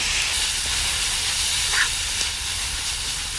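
Chopped leafy greens and other ingredients fry together in a hot pan for an egg curry, a steady, even sizzling hiss that fills the whole stretch with no talking.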